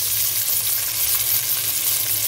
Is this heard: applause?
no